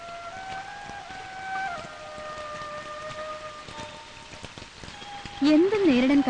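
Rain falls steadily, a fine crackling patter under sustained musical tones, with a voice breaking in loudly near the end.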